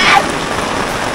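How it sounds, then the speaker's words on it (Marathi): Heavy monsoon rain falls in a village near a river, a dense, close, continuous hiss of drops on surfaces, with a voice briefly audible at the start. "मोठा पाऊस आला."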